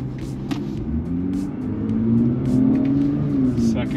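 A tuned Infiniti Q60S accelerating hard in a drag race in manual mode, its engine note climbing steadily in pitch, loud and close, with voices faintly in the background.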